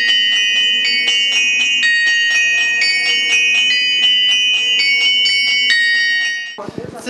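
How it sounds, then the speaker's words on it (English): Many bells in the St. Theodosius Monastery bell tower ring out at Easter, a loud, close, rhythmic peal of overlapping clangs and sustained ringing tones that carries on steadily before ending in a brief rustling clatter. "There are a lot of bells here, more than I had in my bell tower."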